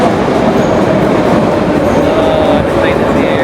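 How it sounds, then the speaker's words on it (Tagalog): A passenger train pulls into a station in Tashkent, Uzbekistan, a steady loud rumble of wheels and cars running throughout with a faint squeal near the end. "The train is here."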